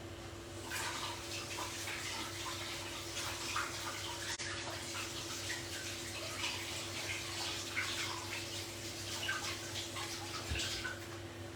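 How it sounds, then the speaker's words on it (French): A tap runs while hands are quickly rinsed in a kitchen during cake making, producing a steady, soft rush of water with faint splashing and irregular spatters over its whole length. "Donc, je vais juste vite me rincer."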